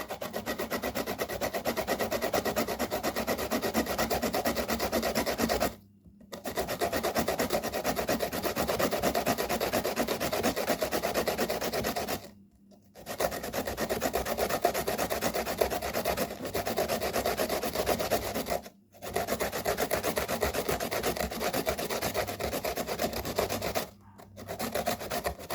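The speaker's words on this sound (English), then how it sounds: "and grate it like so." A medium-sized cucumber rubbed against a grater, long runs of rough, even rasping strokes broken by four short silent pauses.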